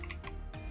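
A few quick keystrokes clatter on a computer keyboard, close and crisp, with short bursts of clicks in a quiet room.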